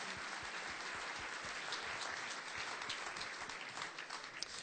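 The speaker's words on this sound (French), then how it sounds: "On applaudit s'il vous plaît les attaquants du DFCO." An audience at a football club player presentation claps steadily, a dense, even wash of applause sustained throughout.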